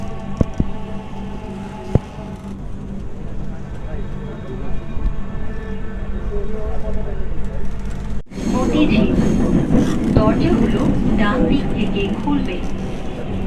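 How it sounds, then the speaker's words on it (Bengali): A Dhaka metro rail train pulls into Agargaon station amid a packed crowd, its steady rumble swelling louder partway through under continuous voices and announcements. "ট্রেন এখন আগারগাঁওয়ে প্রবেশ করছে"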